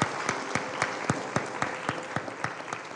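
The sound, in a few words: conference audience applause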